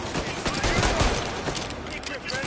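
A dense volley of gunfire rattles out in the crime game Mafia: Definitive Edition, rapid overlapping shots, loud and close, lasting a couple of seconds.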